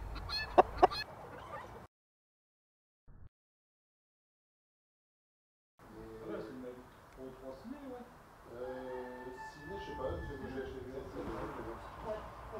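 Bresse chickens and a rooster on a Jura farm give layered clucking and honking calls that fill the second half, after a brief voice and a silent gap at the start.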